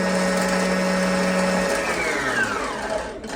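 An LX17 sewing machine winds a bobbin with a loud, steady motor whir that holds at an even pitch and then slows and winds down toward the end, with no voices over it.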